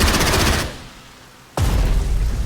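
Flak anti-aircraft fire from the video game Strategic Mind: The Pacific, set at Okinawa, a loud dense burst of rapid gunfire that drops to near silence for about a second, then resumes just as thick and loud.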